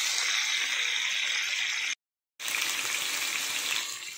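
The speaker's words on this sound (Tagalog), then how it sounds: "Tapos, i-fry muna natin para maluto muna." Eggplant frying in a pan for a Chinese-style eggplant with ground meat dish, a steady loud sizzle with a short silent gap midway before the sizzling resumes.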